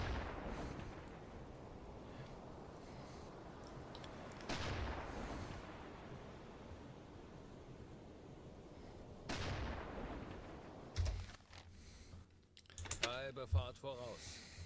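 Deck gun rounds fired from a submarine in the WWII game UBOAT, a few heavy spaced booms with decaying rumble, then a quicker cluster of sharp shots near the end over steady background noise.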